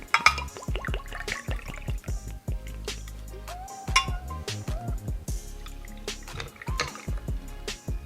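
Peach Crown whisky is poured into an ice-filled Collins glass, giving close liquid trickles and splashes with clinks and knocks of ice and glass. The sounds come in short irregular bursts.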